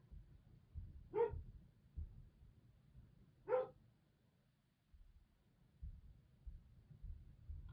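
A couple of sharp dog barks ring out inside a house, two separate bursts a few seconds apart over a low, steady indoor rumble.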